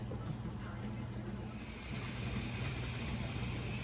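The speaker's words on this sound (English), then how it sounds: "You can hear the steam coming out of there." A Carey pressure canner canning potatoes vents steam in a steady, loud hiss that builds and holds, with a low mechanical hum underneath and no talking.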